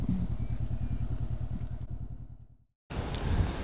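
A Honda CB500X motorcycle idles close by with a steady, pulsing engine note while being parked, then cuts off briefly before a loud burst of engine and handling noise returns.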